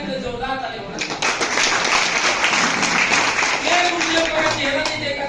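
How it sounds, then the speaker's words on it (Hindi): Loud applause from a seminar audience in Dumka, a dense, steady wash of clapping that swells after the first second and holds to the end, with voices speaking over it. "मैं चाहूंगा कि जोरदार ताली होना चाहिए।"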